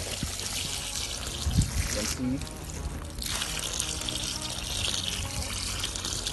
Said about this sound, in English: So just what happens when you begin to water this particular yam